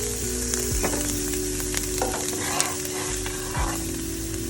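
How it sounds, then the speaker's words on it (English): Onions sautéing in a pan give a steady, close sizzle and frying hiss, broken by a few scrapes and stirring knocks, with a low hum underneath and no talking. "we will add in the ground beef after these have been sauteing for a second"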